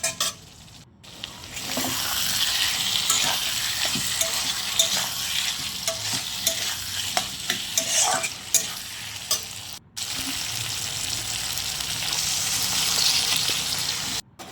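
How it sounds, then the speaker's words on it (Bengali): Potatoes stirred through a spice paste that has released its oil, a steady loud sizzle of frying with scraping stir strokes throughout, broken by two brief pauses. "মশলাটা তেল ছাড়া হয়ে গেলে আমি আলুগুলো ওর মধ্যে দিয়ে ভালোভাবে নাড়বো"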